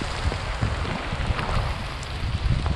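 Heavy rain with big drops falling outdoors at the Daytona 500 racetrack, a dense, loud, continuous patter and splashing close by, with no talking.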